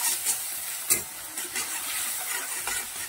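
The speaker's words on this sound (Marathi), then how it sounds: "लो गॅसवर हे सारण आपल्याला परतून घ्यायचं आहे" Potato and dal filling stir-fried on low gas for a stuffed capsicum dish, with a steady soft sizzle and hiss and a few scraping strokes of a spatula, close and alone.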